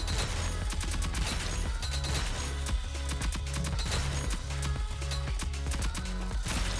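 Rapid automatic machine-gun spray fire from a weapon in the Rogue Company shooter game, a dense continuous stream of shots with no pause, loud and close over a low rumbling background.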